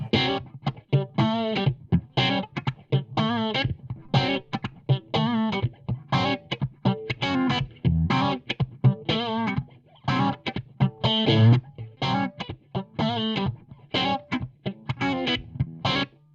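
Electric guitar played through a Mojo overdrive pedal feeding a phaser, giving a driven, swirling tone in steady rhythmic strums and picked notes, loud and close throughout with no talking.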